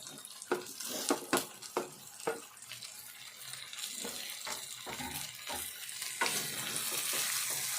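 Ivy gourd and potato curry frying in a pan: a steady sizzle under a run of scraping stirs from a spoon, close and moderately loud, without any speech.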